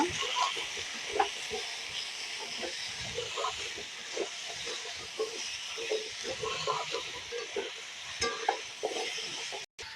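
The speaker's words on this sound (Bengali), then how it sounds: "এর মধ্যে দিয়ে দেবো এখন লবণ, একটু হলুদ, ভালো করে নাড়াচাড়া করে নেব।" Pumpkin curry with salt and turmeric is stirred in a pan, with a steady soft sizzle and hiss under irregular scraping stirs close by.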